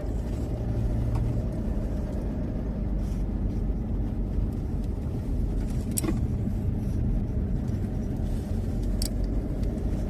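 Car engine and road noise hum steadily and close while driving along a flooded-edge road beside water in Suphan Buri, Thailand, a continuous low rumble with no talking.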